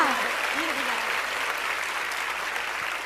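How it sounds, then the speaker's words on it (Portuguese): Church congregation applauding after the pastor's call, a steady, dense wash of clapping that fills the room for the whole stretch, with a voice rising briefly over it near the start. "Vamos aplaudir com um brado de vitória, Senhor."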